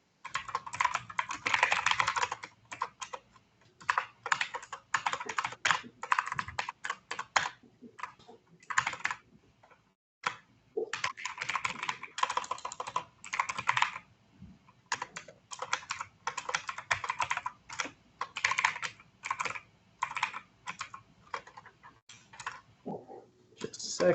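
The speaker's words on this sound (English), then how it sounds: "Hey, don't you make fun of my mechanical keyboard." A mechanical computer keyboard is typed on in quick close bursts of crisp clacking keystrokes, broken by short pauses, with people talking in the background.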